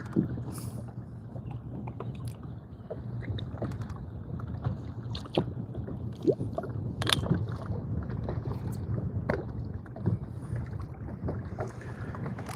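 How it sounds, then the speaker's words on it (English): Wind gusts buffet the microphone out on a lake while fishing from a boat, a steady low rumble with occasional knocks and water slaps against the hull, no voices. "That wind is blowing."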